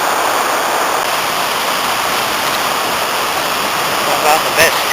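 Rushing water from the lower Nantcol waterfall pours steadily beside a rocky footpath, a broad, constant hiss heard up close and uninterrupted, with a couple of faint knocks near the end.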